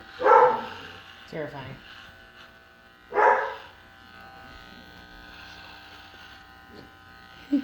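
A dog barks twice indoors, with two sharp, close bursts a few seconds apart, during a home DIY haircut. A faint electric buzz hums in the background and people talk between the barks.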